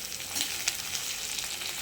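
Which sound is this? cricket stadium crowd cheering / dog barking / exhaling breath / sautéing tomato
sautéing tomato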